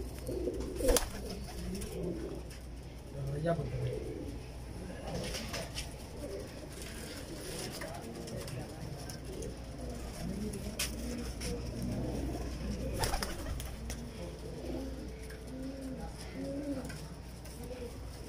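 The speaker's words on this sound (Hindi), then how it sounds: "और अब देखिए इन कबूतरों को, कैसे खूबसूरत कबूतर है" Racing pigeons in a Lahore loft coo softly in low, repeated throaty calls, overlapping in a steady murmur with occasional wing flutters and knocks nearby.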